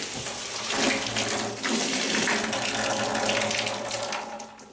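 Water gushing steadily from a tap in a bathroom under remodeling, a dense, close hissing splash that runs continuously without pause.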